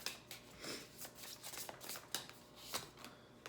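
Tarot cards being shuffled by hand in a series of quick, crisp riffling bursts, close and fairly soft, with short pauses between the shuffles and no talking.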